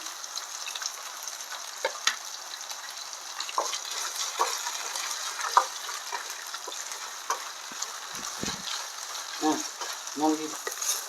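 Tomato and slit green chillies frying in oil for sour-spicy semai, a constant crackling sizzle with scattered pops and occasional clinks and scrapes of stirring, close and alone without talk.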